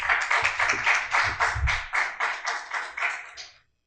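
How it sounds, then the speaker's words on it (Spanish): Sparse applause for a doctor introduced at a climate change lecture, a small audience clapping in quick rhythmic bursts, fairly close and clear, fading out abruptly after about three and a half seconds. "Démosle un fuerte aplauso a la doctora Sosa Rodríguez"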